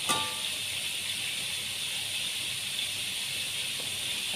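Steady, bright sizzling hiss of chicken frying in hot oil, continuous and fairly close, with no talking.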